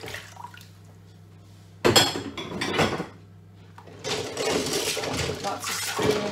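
Spoons, utensils and dishes washed after baking, clattering and clinking in bursts with running water between them, close and fairly loud.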